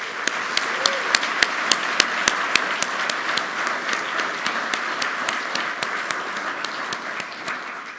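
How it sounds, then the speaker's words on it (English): An audience at an awards ceremony claps and applauds, a dense sustained patter of many hands with a few sharp loud claps standing out early, gradually easing toward the end. "Let's take a moment and give them another round of applause."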